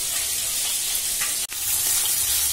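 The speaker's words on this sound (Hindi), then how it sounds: "ये देखो अभी मच्छी फ्राई कर रही हूँ।" Fish fries in a pan with a steady, loud hiss of sizzling oil, broken by one brief dip partway through.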